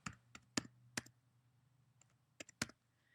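Computer keyboard keys clicking as a new password is typed, a few sharp taps in two small groups, close and isolated, with quiet pauses between.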